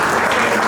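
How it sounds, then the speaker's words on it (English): Audience clapping at a 70s/80s-themed ball, a loud, dense burst of applause filling the room briefly. "I think you should clap at me."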